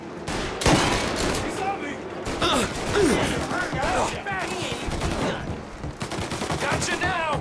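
Tommy gun fire in the Mafia remake game, with dense bursts of automatic shots running under shouted voices and other battle noise throughout.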